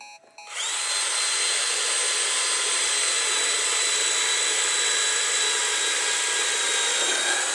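A Black+Decker Gopak cordless drill in drill mode spins up after a brief click and then runs at a steady high-pitched whine, loud and close, holding an even tone for several seconds with no talking.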